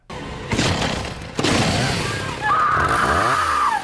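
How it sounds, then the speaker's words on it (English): A loud chainsaw in the film Leatherface revs and roars continuously, with sharp bursts and a rising engine whine near the end, no talking. "hey, Leatherface, here's your chainsaw"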